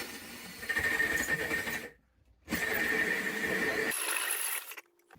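A hole cutter with a dust-catching attachment bores a round opening in a ceiling for a wafer light, two close, loud, squealing grinding runs separated by a short pause, ending in a high-pitched whine.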